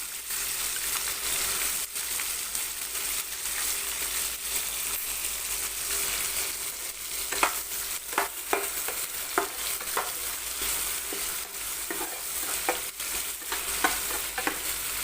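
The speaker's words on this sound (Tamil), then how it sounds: "வெங்காயம் நல்லா வதங்கிருச்சு" Onions frying in a pan for an egg gravy, a continuous bright sizzle with intermittent spatula scrapes and stirs building toward the end, close and unvoiced.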